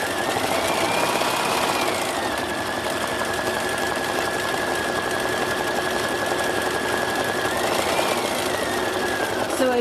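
A home sewing machine runs steadily throughout a live quilting session as a block is stitched, a continuous mechanical whir with a faint rising tone near the start and end, sitting under and among a speaking voice.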